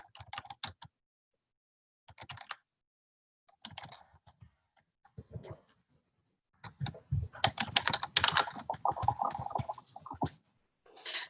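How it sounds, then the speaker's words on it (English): Bursts of typing on a computer keyboard in a Google Docs session, quick clusters of key clicks separated by pauses, ending in a longer dense run of keystrokes, close and clear with no talk. "I'm going to go down here and I'm going to type some more"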